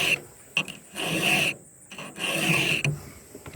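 Round file drawn by hand across the teeth of a chainsaw chain for sharpening, giving three close, loud rasping strokes separated by short pauses.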